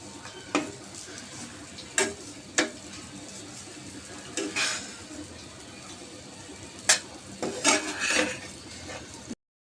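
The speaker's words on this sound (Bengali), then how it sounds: "সেমাইটাকে আবারও উল্টিয়ে পাল্টিয়ে নারকেলগুলোর সাথে মিশিয়ে নিচ্ছি।" Vermicelli and grated coconut are stirred in a pan, with repeated scraping strokes and light sizzling at an uneven rhythm, heard up close without talk.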